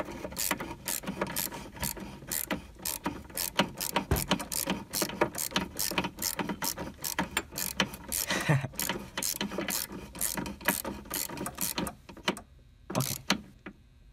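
A bolt being tightened on the auxiliary coolant water pump of a second-generation Toyota Prius hybrid gives repeated close ratcheting and rasping clicks in a steady rhythm, with a few heavier knocks, and no talk.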